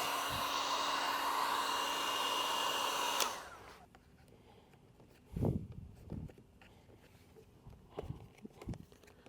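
Heat gun blowing a steady, loud airy roar while heating the edges of vinyl wrap, running for about three seconds before cutting off, followed by a few soft handling knocks.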